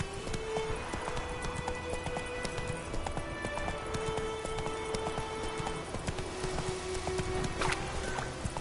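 Horse hooves clip-clopping at a quick pace in The Witcher 3: Wild Hunt, a steady rhythmic patter running through the whole stretch over a constant game ambience, with no talk.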